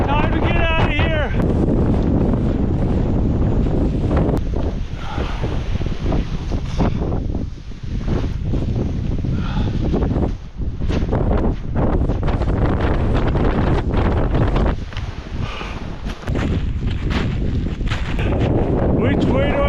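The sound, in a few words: wind blowing during a snow storm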